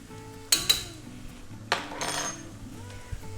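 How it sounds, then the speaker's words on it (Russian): Salt is poured into water in a cooking pot and stirred, giving a couple of sharp metallic clinks followed by a swishing scrape of a spoon against the pot, fairly close and without voices. "И я сыплю соль в воду и перемешиваю опять."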